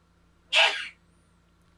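A single sharp sneeze bursts out close and loud, lasting about half a second, with quiet room tone before and after it.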